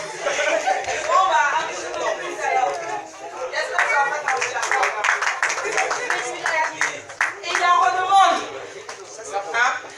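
An audience applauds a comedian at a live comedy show, with steady clapping and chatter throughout while people talk over it.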